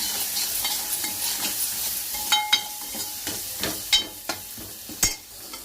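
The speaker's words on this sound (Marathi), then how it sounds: "मसाल्याला तेल सुटेपर्यंत असं भाजायचं आहे." Ground masala paste roasts in hot oil in a pan, with a steady soft sizzle broken by a series of sharp scraping and clinking spoon strokes as it is stirred, no voices present.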